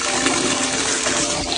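Water rushing steadily through a newly plumbed fixture just after the supply is turned on during a home remodel, a loud continuous flushing hiss with no talk.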